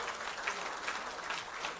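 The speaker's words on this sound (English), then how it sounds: "a big round of applause for the four cousins" Applause from a party crowd at a 21st birthday celebration, a steady wash of clapping held at moderate level throughout, with no voices over it.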